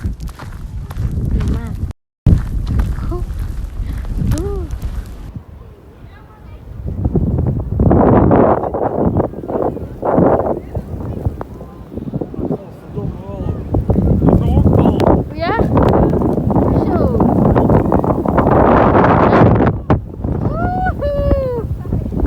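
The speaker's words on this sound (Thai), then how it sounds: "ลมแรง" Strong wind gusting during snowfall in Holland, roaring against the microphone in heavy buffeting bursts while people talk over it.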